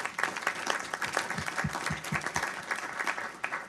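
Applause for committee staff at a congressional appropriations committee markup, a dense, steady round of clapping from a roomful of people lasting several seconds, fairly close and even, with little talk.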